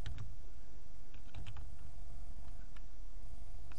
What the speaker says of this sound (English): I'll go ahead and type that in for you guys too